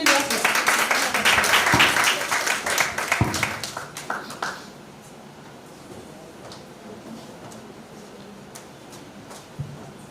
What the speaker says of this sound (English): Continue the applause.